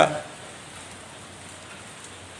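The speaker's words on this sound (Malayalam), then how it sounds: "എറണാകുളത്തും ശക്തമായ മഴയാണ് പെയ്തുകൊണ്ടിരിക്കുന്നത്" Heavy rain pours in Ernakulam as a soft, steady hiss after a brief louder onset, with no voices.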